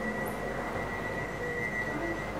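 A London Underground Bakerloo line train rumbles steadily through the tunnel near the sidings, a continuous loud roar with a high, thin wheel squeal held throughout.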